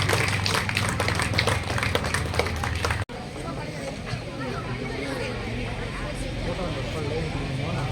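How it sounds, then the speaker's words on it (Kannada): A crowd claps steadily at an award and felicitation ceremony. The clapping is dense and continuous, then cuts off abruptly into a murmur of crowd chatter. "ಇನ್ನೊಂದ್ಸರಿ ಜೋರು ಚಪ್ಪಾಳೆ ಎಲ್ಲರಿಗೂ"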